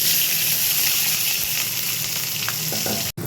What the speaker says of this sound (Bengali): তেল দিয়ে দিয়েছি কড়ায়, আর এখানে পেঁয়াজ আর লঙ্কা দিয়ে দিচ্ছি